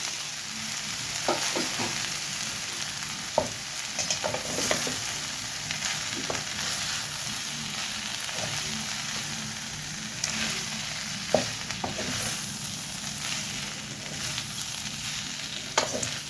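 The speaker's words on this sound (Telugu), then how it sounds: "ఇప్పుడు కట్ చేసుకున్న ఇడ్లీ ముక్కల్ని వేసుకుందాం." Cut pieces of leftover idli frying in oil in a pan, with a continuous close sizzle and intermittent scraping clinks as a spoon stirs and tosses them.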